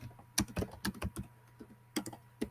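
Keys clacking on a computer keyboard in irregular close bursts, a quiet indoor typing session with a steady low hum beneath.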